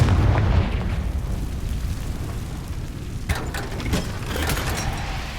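The Confringo explosion spell in the video game Hogwarts Legacy: a deep, rumbling blast opens, then a burst of crackling, popping debris follows a few seconds later before fading into a low rumble.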